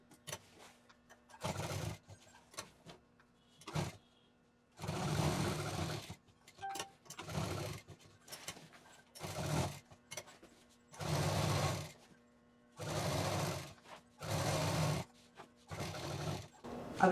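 Sewing machine stitching along the border of a fabric bed runner made from leftover cloth, running in repeated bursts of about a second or two each, separated by quiet pauses, with small handling clicks between runs.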